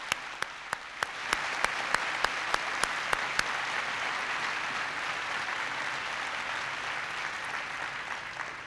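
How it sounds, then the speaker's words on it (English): Applause for young dancers at the 1998 Arts & Humanities Awards ceremony, a steady roomful of clapping with a few sharp, distinct claps standing out near the start, sustained at even loudness throughout with no talking. "Let's give them another round of applause."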